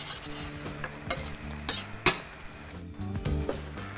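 Greek spinach and rice simmering in a pot as the heat is turned off, soft scraping stirs with a few clinks of the utensil against the pot and a faint sizzle underneath.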